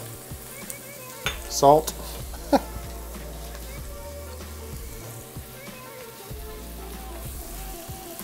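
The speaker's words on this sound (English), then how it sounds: "I'm just going to cook the garlic just until it becomes fragrant." Garlic and spices sizzling and frying in a cooking pot, a steady crackle with a few louder clinks and stirring knocks near the start, and a brief spoken word over it.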